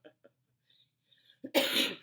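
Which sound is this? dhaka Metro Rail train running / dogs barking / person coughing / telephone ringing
person coughing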